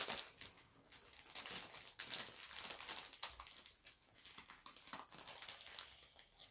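A zip bag of diamond painting rhinestones is crinkled and pulled open, giving a series of faint, close plastic rustles, crackles and small tearing sounds.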